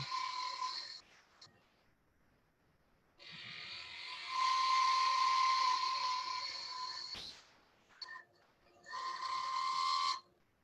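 A skew chisel cuts wood on a lathe while a hollow sphere ornament is turned, giving several separate bursts of hissing, whirring cutting noise with quiet pauses between them.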